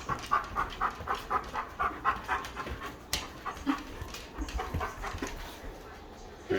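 A huge dog pants close up in quick rhythmic huffs, with a few whimpery breaths and a brief sharp noise partway through.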